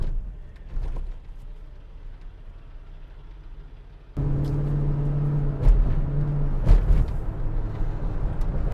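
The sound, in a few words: Ford F150 pickup truck accelerating from a takeoff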